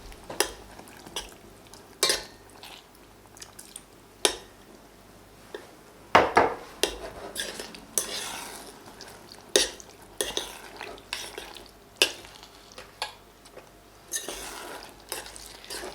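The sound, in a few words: stirring starch into boiling sour cherries in a small bowl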